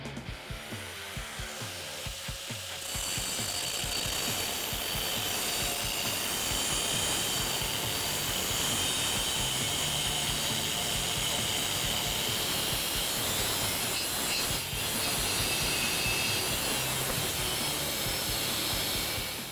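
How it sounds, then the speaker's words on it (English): A grinder with a cutoff wheel slices through a tube for a Ford Ranger bumper. It starts after a brief quieter lead-in, then holds a steady, loud, harsh whine with no talk. "using a grinder with a cutoff wheel, I can come in and make a nice clean straight cut through the tube"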